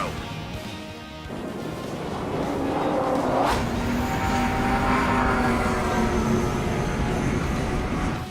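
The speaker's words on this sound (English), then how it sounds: "Aircraft approaching at high speed." Inside the Ace Combat 7 video game, a dense, roaring jet engine and wind rush builds and holds steady, with a brief whooshing pass of fast aircraft overhead and no talk.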